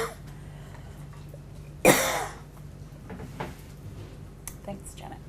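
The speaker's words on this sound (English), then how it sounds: "I'm going to cough mightily." A single loud, harsh cough bursts out from one person nearby during a roundtable discussion, then trails off into quieter room noise with faint movement sounds.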